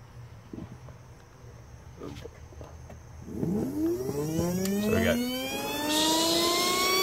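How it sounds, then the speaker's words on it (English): A small DC motor on a regulated supply through a DROK buck converter at 14.4 volts whirs up from quiet into a steady, close electric whine that climbs in pitch as it spins up, then holds. "I've got this, you know, just plugged into the motor here and you'll be able to hear it"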